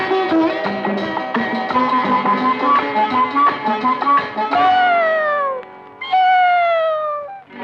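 A cat meows twice in long, drawn-out, falling cries over busy music playing throughout.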